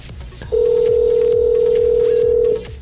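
On an outgoing phone call, a single steady ringback tone sounds loud and clear for about two seconds after a short click, with faint background noise and no talk.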